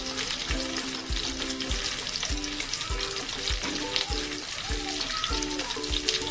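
Large-cut onions with capsicum fry in a pan for chilli soya bean, a bright constant sizzle with a regular, rhythmic thump of a spatula about every half second, close and without speech.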